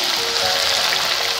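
Sliced bitter gourd hitting hot oil in a pan gives a loud, dense, steady sizzle with a bright crackling hiss, close up and unbroken for the whole moment, with no voices.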